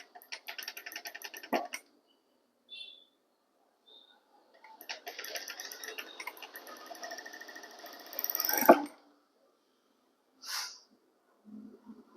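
A sewing machine stitches a thread-piped blouse in short bursts of rapid mechanical whirring and ticking, separated by quiet pauses, close and fairly soft with occasional clicks.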